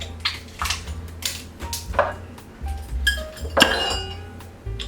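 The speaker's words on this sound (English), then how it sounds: "Add the ice to the tin." Ice cubes tumble into a metal cocktail shaker tin while a Bee's Knees cocktail is being mixed, giving a cluster of close, bright clinks and rattles with a few sharper knocks.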